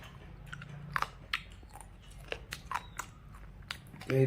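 Someone chews and bites crunchy pieces of mango spiced with chili right at the mouth, giving irregular wet crunches and smacking bites in short bursts with quiet pauses between.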